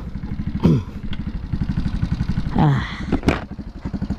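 A Suzuki Raider J115 Fi motorcycle engine fitted with a 32mm throttle body runs close by, a fast, steady pulsing idle with a few quick throttle blips rising sharply and falling back.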